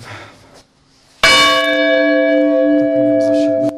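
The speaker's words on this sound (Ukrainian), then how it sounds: "звонится в один колокол, как раз вот колокол Николая, это самый большой колокол, который у нас есть" A church's largest bell, named Nicholas, strikes once, loud and close, then rings on with a deep, sustained humming tone after a quieter, murmuring start.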